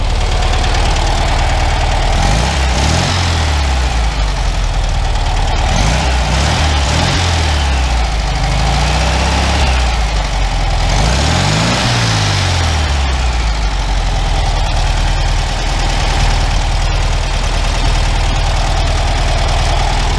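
A Volkswagen Beetle engine idles loudly and steadily close by, rising several times into revs that fall back to idle, with no talk over it.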